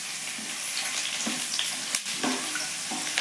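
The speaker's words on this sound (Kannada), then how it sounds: "ಪುಟಾಣಿ ಫ್ರೈ ಆಗ್ತಾ ಇದ್ದಂಗೆ ಇದಕ್ಕೆ ಜಜ್ಜಿಟ್ಕೊಂಡಿರೋ ಬೆಳ್ಳುಳ್ಳಿ ಹಾಕಬೇಕು" Roasted gram and crushed garlic frying in oil: a steady, close crackling sizzle runs throughout, broken by a few sharper pops and stirring scrapes, with no talking.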